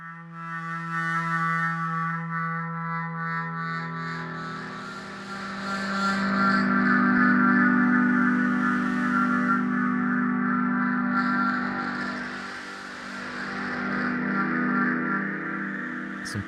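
Sustained, breathy synthesized woodwind pad tones from the Vela Woodwinds instrument swell and fade with lush, spacious stereo echo and shimmering repeats, drifting slowly through layered held notes.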